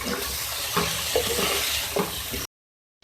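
Chopped vegetables with green chillies and crushed red chillies sizzle and fry in a pan, with a few soft scrapes of stirring over steady crackle before the sound cuts off abruptly.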